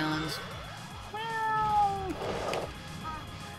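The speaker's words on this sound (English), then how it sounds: "Witches! Oh, they turned to cats." Cats meow in Castlevania Harmony of Despair after witches turn into cats, a clear rising-and-falling meow standing out over the game's music and effects, with other game sounds around it.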